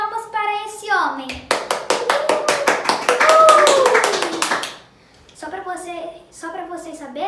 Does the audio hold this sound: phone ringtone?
no